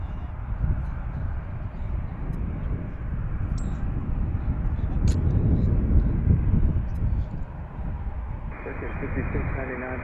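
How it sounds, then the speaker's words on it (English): A United airliner takes off from Washington's DCA, its broad engine roar steady and fairly loud throughout, swelling slightly midway, with a radio voice faintly talking over it. "We've got United heading out to take off."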